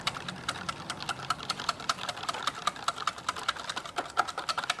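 Eggs with dill and spices are beaten with a small whisk in a bowl for a salmon quiche, giving a fast, even run of light clicking taps, close up, with no voices.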